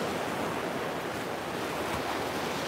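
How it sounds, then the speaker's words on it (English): Ocean waves wash onto a beach, somewhat louder than usual, making a steady, soft rushing hiss with no voices. "I love the sound of the waves."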